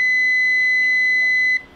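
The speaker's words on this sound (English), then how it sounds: "the circuit's complete, it makes a beeping noise." A single sustained electronic beep from a continuity tester touching a screw in a 3D printer frame, clear and close, holds steady for about a second and a half before cutting off.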